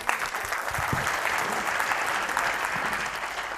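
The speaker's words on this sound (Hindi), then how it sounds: "जोरदार तालियां होना चाहिए।" An audience breaks into loud, sustained applause at a motivational talk, a dense, even wash of many hands clapping close by with no pause.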